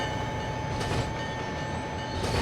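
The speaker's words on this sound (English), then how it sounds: "There's the end of the coal train there." A coal train in the Trainz 22 simulator rolls steadily along the track, a continuous loud rumble with faint rhythmic wheel clatter and no talking.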